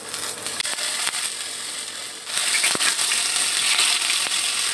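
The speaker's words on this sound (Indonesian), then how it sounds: "Kita goreng sebentar tahu sama tempenya" Tofu and tempeh fry in hot oil in a pan, giving a continuous dense sizzle with scattered crackles and pops, growing louder halfway through; close, with no talking.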